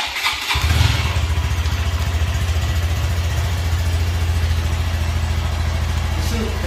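A Honda Grom 125 motorcycle starts with a brief crank and catches, then settles into a steady, fairly quiet low idle that runs on evenly to the end.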